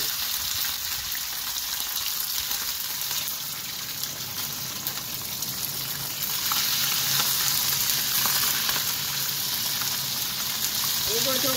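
Fish for Jamaican escovitch frying in hot oil, a steady close sizzle and crackle throughout, growing slightly louder midway, with faint kitchen clatter near the end.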